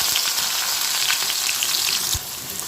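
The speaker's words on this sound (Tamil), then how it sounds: "இப்போ இதில் நம்ம நறுக்கி வச்சுருக்க அந்த வெங்காயத்தை சேர்த்துக்கணும்" Onions for tomato pachadi sizzle and crackle in hot oil, a loud, bright frying hiss that runs steadily throughout, with a brief stirring clatter near the end.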